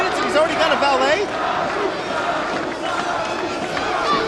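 A wrestling arena crowd at a 2002 pay-per-view roars and chants for Sabu, a dense continuous wall of cheering and shouting with rising calls throughout.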